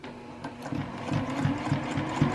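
Sewing machine running a short line of top stitching along the edge of a fabric tote bag handle, a steady mid-pitched mechanical whir with light rhythmic needle pulses, close and continuous, no talk.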